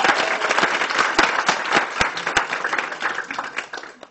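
An audience applauding at a law school event, dense close clapping from many hands that gradually thins toward the end.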